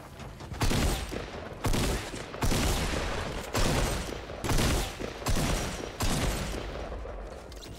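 Sustained bursts of gunfire in Fortnite Battle Royale, including a silenced pistol, come as roughly six loud, dense volleys separated by brief gaps, close and continuous with no talk over them.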